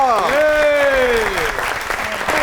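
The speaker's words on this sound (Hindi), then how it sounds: "आपकी बहुत सी तालियों में" An audience claps loudly and continuously while a voice sings a sustained, sliding line over the applause.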